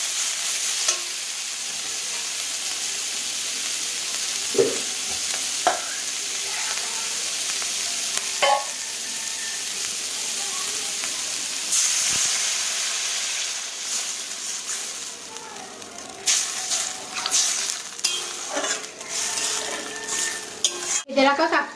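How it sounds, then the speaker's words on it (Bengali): Spice paste of tomato and masala frying and sizzling in a pan for a spiny gourd and fish-roe curry, with steady hiss, stirring and utensil clatter, then a louder burst of bubbling as water goes in near the end. "এবার জল দিয়ে দেবো।"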